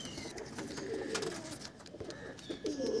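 Madras pigeons in a loft coo softly in low, rolling calls at close range, faint against background noise, with no talk over them.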